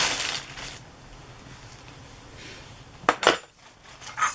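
Metal cutlery and a knife clink against dishes while carving a Halloween pumpkin, a soft scraping start followed by a quick cluster of sharp clinks and one later tap, close and fairly quiet.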